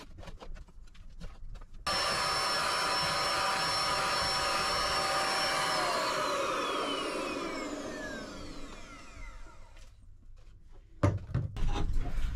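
A vacuum cleaner hoovers ash out of a narrowboat's wood stove, starting abruptly and running as a loud steady whine that sags in pitch, then cutting off to brief scraping and clattering near the end.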